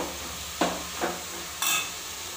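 Onions sautéing in oil in a pan give a steady low sizzle with three brief stirring scrapes spaced across the moment, close and fairly quiet, with no talking.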